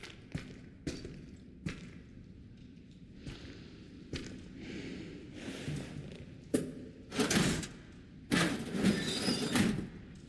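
Drawers opening in the video game Resident Evil Requiem, a series of wooden slides and knocks with sharp thuds and scraping pulls at irregular intervals, rising to louder sliding rattles near the end.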